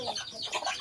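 Chickens cluck in short, close bursts while chasing one another and pecking at feed on a farm, a soft continuous scratchy chatter under light background noise.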